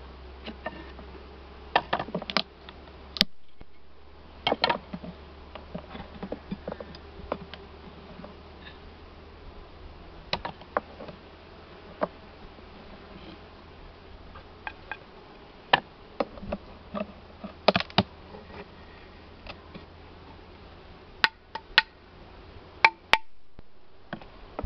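Buckfast honey bees hum softly in an open hive while supers are added to nucleus colonies in August, a low, continuous buzz broken by scattered sharp clicks and knocks from handling the hive.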